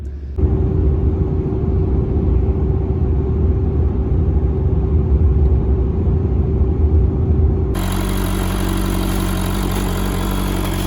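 A diesel-fuelled vehicle on the road, a loud steady engine rumble heard close and continuous, with a sudden shift in tone near the end.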